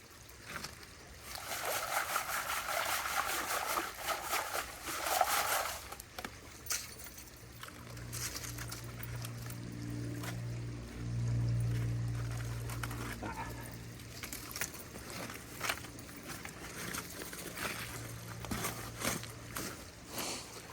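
Water runs steadily through a Recon gold sluice during gold prospecting, a continuous wet rushing wash with splashy bursts and a low rumble midway, close and moderately loud throughout.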